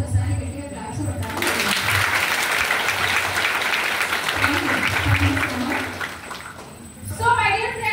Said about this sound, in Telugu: సో వెస్టీజ్ ఎంప్లాయీస్ ఒకసారి గట్టిగా క్లాప్స్ కొట్టాలి